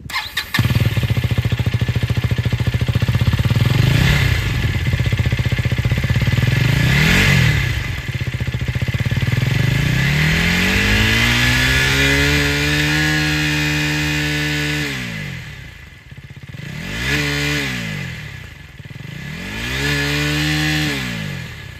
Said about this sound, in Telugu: KTM Duke 250 orange colour vehicle అయితే ఇప్పుడు నేను రైడ్ చేయబోతున్నాను.